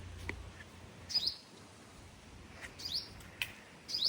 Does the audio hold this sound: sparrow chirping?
yes